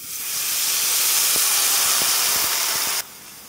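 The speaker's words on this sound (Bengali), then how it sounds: "দিয়ে দিচ্ছি এবার কাঁচা লঙ্কা কুচি, আন্দাজ মতো জল দিয়ে দিচ্ছি।" Loud hissing sizzle as water hits frying masoor dal with chopped green chillies in a hot pan, a steady steam rush with small pops that drops abruptly quieter near the end.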